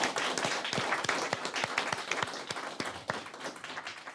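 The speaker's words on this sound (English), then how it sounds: "So round of applause for Trevor, please." Applause at an Air Force wing's annual awards ceremony honoring a team member, a small group clapping with distinct individual claps audible, fairly close and tapering slightly toward the end.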